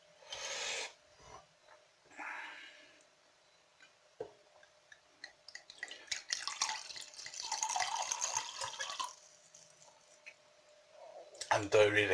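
Homemade orange mead poured from a bottle into a glass, a few seconds of close liquid splashing and gurgling after clinks and handling noises, with someone talking briefly.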